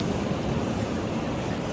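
Surf rushes in a broad, steady wash of noise, close by, with wind buffeting the microphone and no voices.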